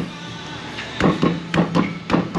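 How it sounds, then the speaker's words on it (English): Hammer blows on a rusty part of a New York truck, about four heavy metallic strikes spaced roughly half a second apart, close and loud over a steady background hum. "Hit it with a hammer."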